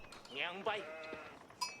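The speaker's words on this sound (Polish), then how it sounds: "Czekaj, zobaczymy tą owieczkę." A sheep bleating in the video game Age of Empires 4, one wavering bleat followed by a short chime, quiet and close.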